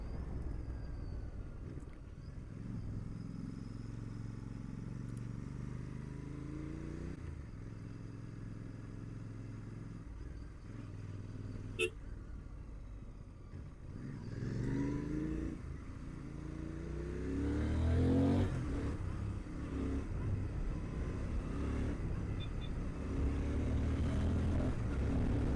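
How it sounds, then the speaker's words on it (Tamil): A Royal Enfield-style GT motorcycle's exhaust gives a steady, low rumbling beat on a ride toward Valparai, loud and continuous with wind buffeting, rising in intensity toward the end. "2 இது இருக்கிறதுனால தடன்னு ரம்பிளிங் சவுண்டு வரும்."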